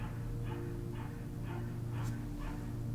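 Distant dog barking, five or six faint, evenly spaced barks repeating about every half second over a constant low background hum.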